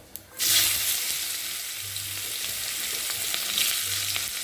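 Chopped onions hit hot oil with toasted whole cumin, bursting into a loud, steady frying sizzle after a brief quiet start, the hiss continuing close and unbroken with faint stirring clinks.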